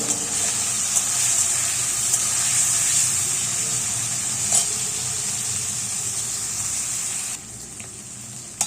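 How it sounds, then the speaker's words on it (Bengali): Prawns fry in hot oil in a wok, giving a loud, steady, bright sizzle that runs almost unbroken with a few faint stirring knocks, then drops to a quieter hiss near the end. "তার মধ্যে চিংড়ি মাছটা এখন ভেজে নেব"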